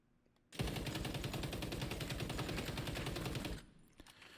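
An ACR 6.8 rifle in the XDefiant video game emptying a full 30-round magazine in one sustained, loud, rapid automatic burst lasting about three seconds, then stopping abruptly into quiet.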